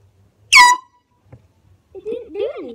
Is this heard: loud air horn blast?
yes